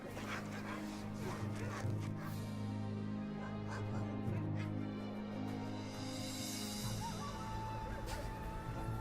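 Many sled dogs barking and yipping together in an Arctic town on the sea ice, a dense overlapping chorus of barks at middle distance with a faint voice underneath.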